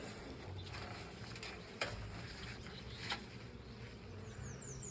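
Honeybees buzz around an opened Layens hive on a farm, a faint continuous humming drone with soft scattered clicks and rustles, no talk.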